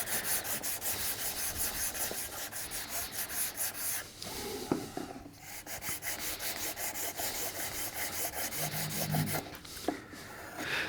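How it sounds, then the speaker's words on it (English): Brisk back-and-forth scrubbing of a short bristle brush over wood to clear resin off a small woodworking box, close and continuous with quick rhythmic strokes and a couple of brief pauses. "need to scrub that up. Short bristle brush will work nicely."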